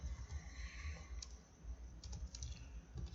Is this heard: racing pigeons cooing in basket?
no